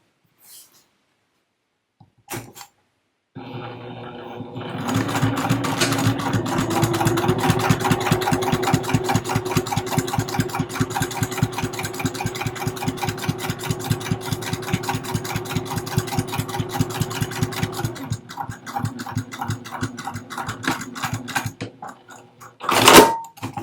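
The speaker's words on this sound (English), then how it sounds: "I'm going to stitch from the top to that seam" A sewing machine runs steadily, stitching from the top down to a seam on a 12-inch fabric storage box. Its motor hums with a fast, even needle rhythm for about fifteen seconds, then slows into separate stitches before stopping.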